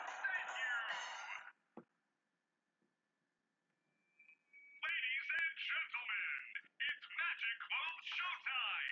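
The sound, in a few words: song music played from a phone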